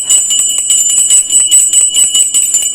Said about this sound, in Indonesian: Ini adalah lonceng kebenaran.